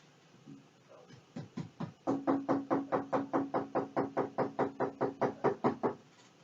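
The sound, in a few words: police officer knocking on house door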